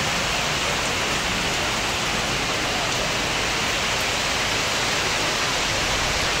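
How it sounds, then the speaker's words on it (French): Heavy rain pouring down in Douala, Cameroon, a loud, dense and continuous hiss with no let-up and no voices. "Il pleut abondamment."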